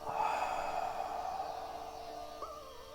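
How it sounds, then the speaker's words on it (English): Slow, steady breaths during a beginner-friendly slow-flow vinyasa home yoga session, a long soft inhale-exhale heard close and quiet with no talking. "And then breathing in, slowly coming up."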